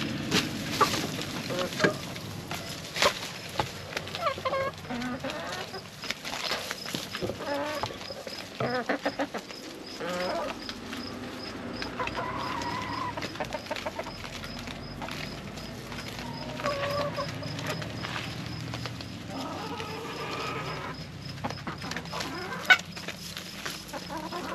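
Backyard chickens cluck and murmur softly while pecking at treats of cabbage and kohlrabi in a garden, with scattered nearby clucks and light rustling throughout, fairly quiet and without talk.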